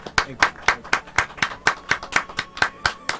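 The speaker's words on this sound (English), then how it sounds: "you should at least have some fake applause" A single person clapping in a slow, even rhythm, about a dozen sharp claps close by, with no crowd joining in.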